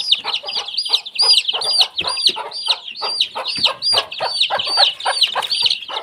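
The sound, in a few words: hen clucking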